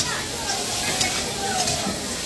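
Crab sizzling in hot oil in a market kitchen in Puri, a steady broadband hiss of frying with faint stirring, while a voice talks nearby.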